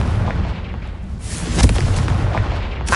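Confringo spell explosion in Hogwarts Legacy, a loud booming blast with heavy low rumble and a sharper burst midway, dense and close with no talk.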